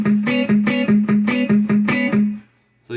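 An electric guitar plays the keyboard part of a song, repeating short rhythmic stabs of paired notes with palm-muted low hits in a steady pulse, then stopping into silence before a final note.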